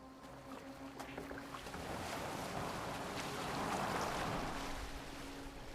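A boat moves across the water in Assassin's Creed Valhalla, a steady rush of waves and wind that swells slightly louder midway, with no voices.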